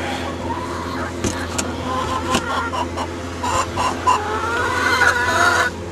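Backyard chickens cluck and chatter close by in a busy, overlapping flock, with someone talking over them and a car passing in the background.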